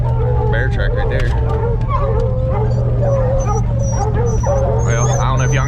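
Hunting hounds on a bear track yip, whimper and howl close by in the woods, their cries overlapping without a break over a low steady rumble.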